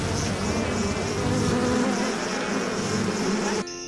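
Bees buzz from a beehive in a dense, steady drone that holds at an even level for several seconds before cutting off abruptly.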